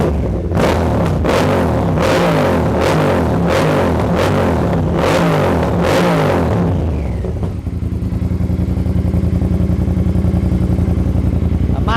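Triumph Speed Twin 1200 fitted with a Lowell full system exhaust, revved repeatedly in sharp deep bursts before settling into a loud, lumpy idle, close up and with no talking.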